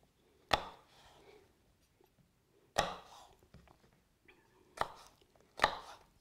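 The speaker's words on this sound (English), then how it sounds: "This you gotta chop," A knife chops vegetables on a board for stuffed peppers, with four sharp separate strikes at irregular gaps and quiet rustling and handling between them, no talking.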